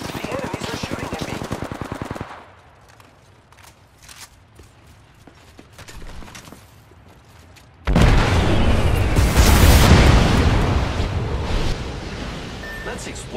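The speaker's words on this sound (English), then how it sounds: "The enemies are shooting at me." Enemy gunfire in Apex Legends: rapid automatic bursts up close at the start, a quieter stretch with scattered shots, then a loud, sustained roar of heavy firing through to the end.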